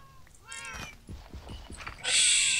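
Minecraft cats give a few short meows close by, and a loud, bright hiss-like burst of game noise follows at the end.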